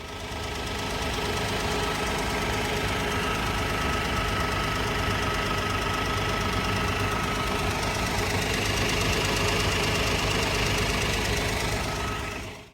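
A 2023 Hyundai Palisade engine on a very cold morning start, clattering from valves without hydraulic lifters; a steady, loud mechanical ticking and rumble runs continuously for the whole stretch, close up with no voices.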